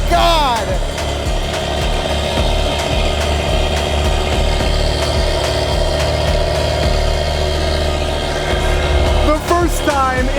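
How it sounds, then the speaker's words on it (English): A Volvo S60R engine fires up on its first cold start after four years, settling into a loud, steady idle with a deep rumble, while voices talk over it. "we're gonna get the actual first cold start on the S60R"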